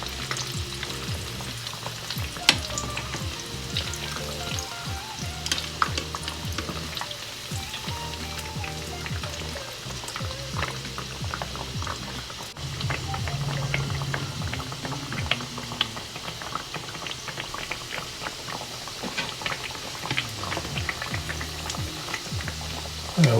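Spam katsu fries in hot oil, bubbling and crackling steadily and densely throughout, a close, continuous sizzle with faint scrapes of a utensil now and then.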